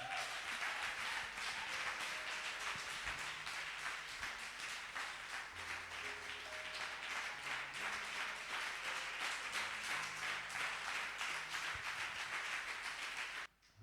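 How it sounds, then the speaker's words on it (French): A church congregation at a Sunday service applauds for the Lord, with sustained, dense clapping from many hands lasting throughout at an even, loud level. "Est-ce que quelqu'un peut acclamer pour le Seigneur?"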